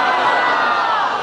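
A large crowd at a religious gathering chants slogans together in one dense, loud roar of voices, sustained and close, filling the whole moment.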